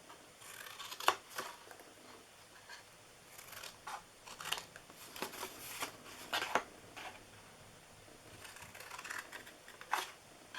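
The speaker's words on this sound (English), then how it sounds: "We're going to cut all of the 4 corners just like this." Scissors cut the corners of a paper gift box, giving faint, crisp snips and clicks at irregular intervals in a quiet room.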